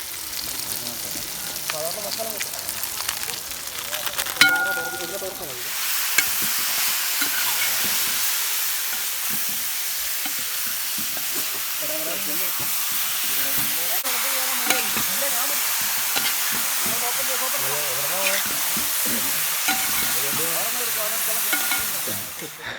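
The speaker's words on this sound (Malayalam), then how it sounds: "they chicken വരട്ടിക്കൊണ്ടിരിക്കുക" Chicken sizzles and is stirred in masala in a pan, a steady loud frying hiss with scraping stirs running throughout, while people talk over it.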